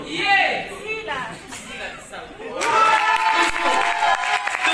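At the 2nd edition of the Nzonzing Award ceremony, an audience breaks into applause and cheering. A loud speaking voice comes first, and then a dense, steady wave of clapping fills the room.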